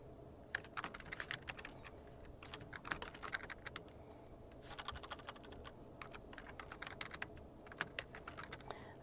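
Steady clicking of keys as someone types on a computer keyboard nearby, an irregular patter of taps with brief pauses, no voices.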